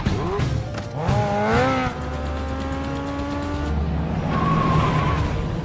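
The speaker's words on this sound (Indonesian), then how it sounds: "Kejar-kejaran antara Ethan, Shen dan anak buahnya pun dimulai" Motorbikes roar through a chase scene in an action film, engines revving and whining up and down in pitch with a squeal near the start, loud and close with continuous rumbling underneath.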